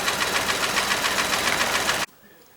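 A 2017 Ford Ka three-cylinder engine runs with a piston skirt knock, a steady fast ticking and rattling mechanical clatter, close and even, that cuts off abruptly near the end into near silence.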